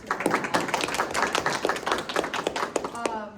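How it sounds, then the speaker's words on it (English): Applause from an audience at a student government budget hearing, a short burst of clapping lasting a few seconds, moderately loud and fairly close. "Please give a round of applause to"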